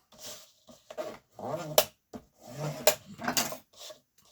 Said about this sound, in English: Burnish all that tape down.